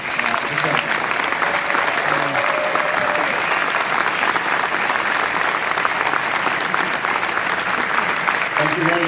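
An audience gives a presenter a sustained round of loud, dense applause with a little cheering, clapping steadily throughout.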